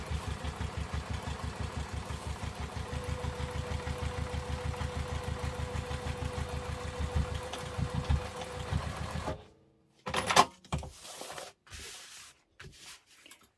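A sewing machine running steadily as it top stitches a messenger bag, a fast even whir for about nine seconds, then stopping, followed by scattered handling clunks and rustles.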